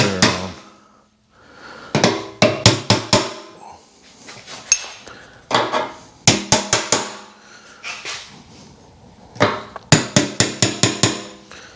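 A hammer tapping the tabs on a truck gas tank sending unit ring, in bursts of quick sharp metallic taps with short pauses between groups, close and clear.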